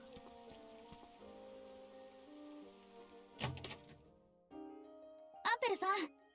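Rain falls in the video game Atelier Ryza as a steady hiss over background music and game sounds, with a few louder thuds and brief voice-like bursts near the end.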